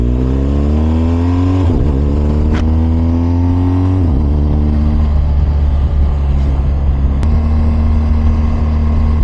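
A 2022 BMW R1250 motorcycle heard while riding, its engine rising through the gears with clear pitch climbs and drops at each shift, loud and close under steady wind noise.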